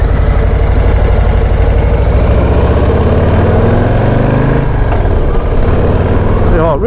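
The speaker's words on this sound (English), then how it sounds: "it actually sounds really nice in a stock exhaust" A Harley-Davidson Low Rider ST motorcycle on its stock exhaust, with a loud, deep, steady engine note throughout and a brief rise in pitch near the end.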